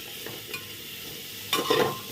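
Pumpkin frying in a little white oil with turmeric inside a pressure cooker: a soft, steady sizzle with a few light stirring scrapes, then a louder burst of stirring near the end. No voices.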